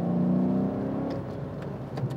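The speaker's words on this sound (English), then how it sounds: "Now this provides us with a beautiful sonorous, almost crackly exhaust note, especially on the overrun." Maserati GranSport exhaust note on downshifts, a loud continuous engine tone that drops and settles as the revs fall, with faint crackle on the overrun near the end and no talking.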